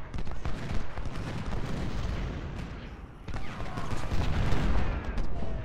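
Massed artillery and musket volleys from the Ultimate General: Civil War video game, a dense, continuous roar of overlapping gunfire and booms with a brief dip before the barrage swells again.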